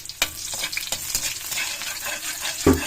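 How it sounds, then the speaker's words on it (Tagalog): Garlic sizzling and frying in a hot pan for a Filipino lomi soup, a steady crackling hiss with a few stirring scrapes and a louder clatter near the end, no talking. "Mainit na yung kawali. Ilagay natin yung bawang."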